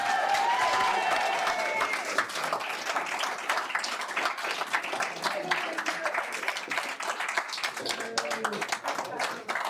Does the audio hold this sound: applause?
yes